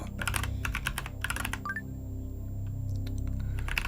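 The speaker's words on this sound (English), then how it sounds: "I'm typing something wrong here." Rapid, steady typing on a computer keyboard during a word puzzle game, with close, crisp key clicks in quick bursts and a brief pause partway through, heard alone without speech.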